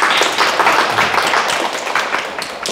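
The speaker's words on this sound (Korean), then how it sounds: "박수 한번 치세요" An audience at a question-and-answer Buddhist dharma talk breaks into brief, dense clapping, a close, steady patter with no speech over it.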